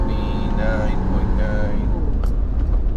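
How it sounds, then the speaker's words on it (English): A Toyota Tacoma with a 3.4L engine and sluggish performance held at wide open throttle, giving a loud, steady engine drone with a low rumble that stays level throughout. "I'm gonna do a wide open throttle."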